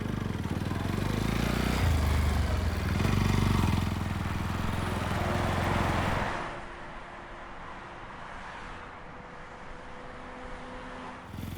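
A motorcycle engine revs loudly up close for several seconds, then drops away to a quieter steady drone as the bike pulls off and moves into the distance.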